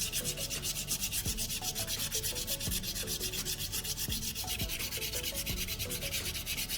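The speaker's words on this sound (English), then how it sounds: "This allows me to easily conform the sandpaper to the different contours of the rusty metal, getting into all those nooks and crannies." Folded sandpaper scrubbing over rusty metal in steady, rhythmic back-and-forth strokes, a close, continuous gritty rasp with no talk.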